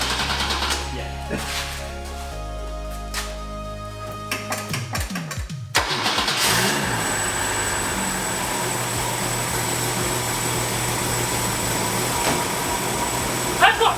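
A vehicle engine on its first drive, starting after some mechanical clunks and then settling into a steady, moderately loud idle that runs on continuously, with voices talking around it.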